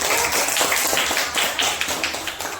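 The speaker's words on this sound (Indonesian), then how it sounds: "Silakan kasih tepuk tangan ke kelompoknya Sang Ayu." A classroom of students claps for a presenting group, producing a steady, fairly loud patter of many hands that continues throughout before tapering slightly at the end.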